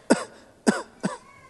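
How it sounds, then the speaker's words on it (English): Three short coughs from a child, sharp and close, spaced about half a second apart. "Tim, that cough isn't getting any better"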